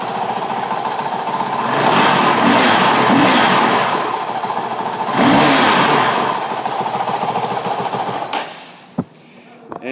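A 2019 Honda CRF450L engine running at idle, a steady close mechanical chug with slight swells, settling quieter near the end before a few sharp clicks.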